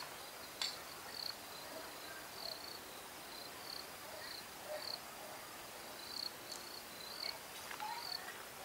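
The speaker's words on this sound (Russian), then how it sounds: "Крякают утки, сверчки." Crickets chirp in short, repeated high-pitched bursts against a quiet countryside background near a village, faint and steady throughout.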